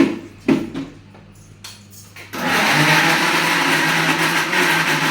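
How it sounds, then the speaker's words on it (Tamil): Peeled ripe bananas are ground smooth in a mixer grinder jar. A few knocks and short pulses come first, then the motor kicks in with a loud, steady whirring roar that runs to the end. "மிக்சி ஜாரில் சேர்த்துட்டுருங்க இதை பார்த்தீங்கன்னா நல்லா நைஸாக அரைச்சிக்கிறேன்"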